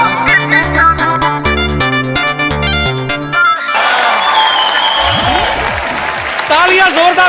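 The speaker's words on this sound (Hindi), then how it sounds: "तालियां जोरदार होनी चाहिए जरा।" Studio audience applause on the Kapil Sharma comedy show breaks out loudly after a short musical sting and carries on as dense, continuous clapping with some crowd noise mixed in.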